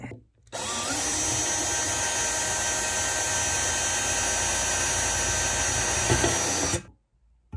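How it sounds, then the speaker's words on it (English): A power drill whirs loudly and steadily for several seconds, drilling holes through metal for a guitar pedalboard bracket, starting and stopping abruptly, with a slight change in pitch near the end. "I just have to do the drilling"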